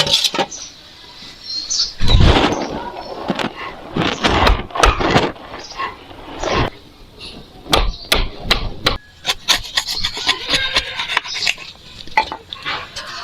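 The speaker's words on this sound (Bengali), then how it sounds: "তার জন্য এই যন্ত্রটার সাহায্যে ফুটো করে নিই।" A hand tool bores a hole in the steering wheel of a homemade toy tractor, giving irregular sharp knocks, scrapes and clatters in bursts, close and fairly loud, with no talking.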